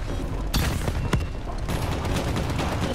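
Loud, dense gunfire and explosive noise in a Call of Duty: Black Ops 3 campaign mission, a continuous roar with a couple of sharp shots standing out, no talking.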